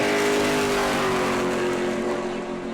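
A Sportsman division race car at New Smyrna Speedway roars loudly and close, its engine note holding a steady high drone with a slight pitch shift, continuous throughout with no speech.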